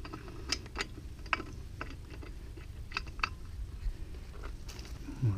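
Quick ratcheting clicks from a wrench tightening car wheel bolts in a cross pattern during a wheel change, coming in short bursts over a low steady background hum, close and fairly quiet.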